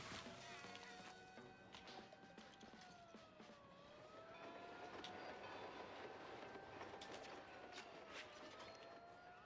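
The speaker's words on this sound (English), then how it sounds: "every once in a while the train comes across the tracks" A train rolling along tracks in the video game Mouse P.I., a continuous loud rumble with rhythmic clatter and a wavering horn-like tone running over it.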